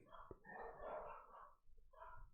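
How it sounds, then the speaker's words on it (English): Several household dogs bark somewhere in the back of the house, heard faintly at a distance as a couple of muffled bursts of barking with no talk over them. "Sorry, my dogs are barking back there."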